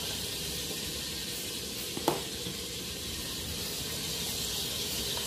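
Onions sizzling and frying in a pan for a Filipino sarsyado dish, a steady close hiss throughout with a brief clatter near the middle, no talk.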